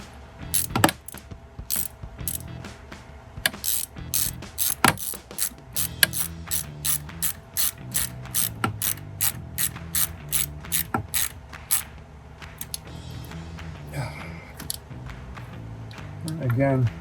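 Ratchet wrench clicking as it tightens a hose clamp on a cold air intake hose of a GMC Sierra 1500, a rapid near string of pawl clicks in short bursts with brief pauses between strokes.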